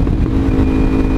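A vehicle with a new aftermarket exhaust gives a loud, steady, deep engine drone with a low rumble, heard close and continuous with no talk.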